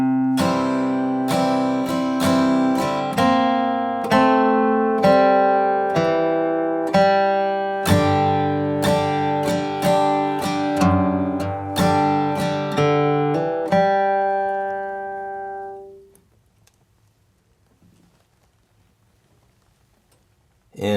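Acoustic guitar flatpicking a country blues line in C from a Worried Blues arrangement, a brisk run of picked single notes and bass strums at a steady pulse, close and clear, ending with the final notes ringing out into silence.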